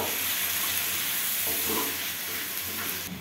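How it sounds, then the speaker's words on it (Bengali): Grated onion frying lightly in a pan gives a loud, steady sizzle and hiss throughout, close up, with faint stirring underneath and no talking. "এটাকে একটু হালকা করে ভেজে নেব।"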